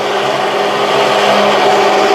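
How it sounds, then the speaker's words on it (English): Handheld blender mixing the oil phase into a face base cream emulsion, a loud, steady motor whir that holds throughout with a faint rising hum and no talking. "So you tilt it, and then you continue to blend."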